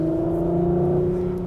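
A Porsche Macan GTS, 2020 facelift, accelerating away with a steady tonal engine drone that holds briefly and then eases, heard alone.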